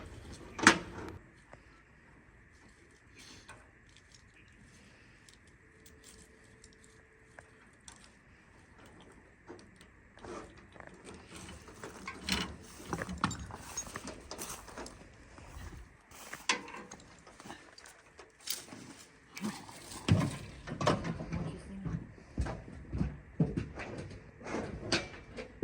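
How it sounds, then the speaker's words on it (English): Winch hauling a chained Studebaker with three seized wheels out of the ground and onto a trailer, heard as clicking, ratcheting and clanking mechanical bursts that grow louder and busier as the pull goes on, with no talk. "it's time to get this thing chained up and hooked up to the winch and start giving it a tug"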